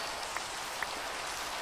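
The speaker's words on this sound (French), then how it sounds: "Le problème c'est qu'on est tombé sur une pluie au mauvais moment." Rain falling in the Minecraft video game, a steady soft hiss of drops with a couple of brief ticks, alone with no talk.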